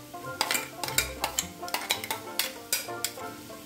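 Crushed green chilli, garlic and ginger go into a pan and get stirred, producing a rhythmic series of close metallic scrapes and taps over a soft sizzle, with no talking.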